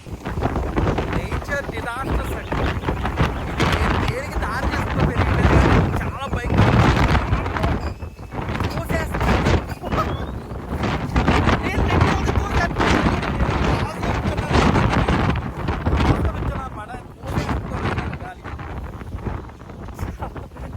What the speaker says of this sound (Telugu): విండి చాలా భయంకరంగా ఉందండి